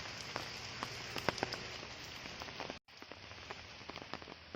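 Light, steady evening drizzle pattering softly with scattered drops tapping nearby, continuous throughout with a brief dropout partway.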